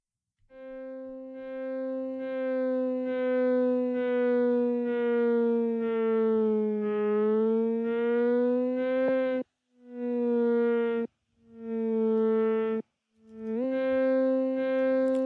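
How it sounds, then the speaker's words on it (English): Spacefields synth plugin by Igor Vasiliev producing a sustained, siren-like pitched tone that wavers and slides, then breaks into three short separate bursts with pitch jumps from reversed pitch settings; loud, clean and alone. "when I was moving it to the left, it was reversing the pitch"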